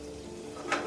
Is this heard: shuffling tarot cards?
no